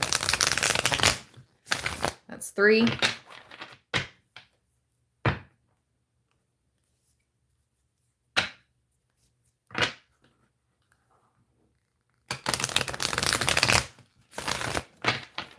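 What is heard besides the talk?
shuffling a deck of cards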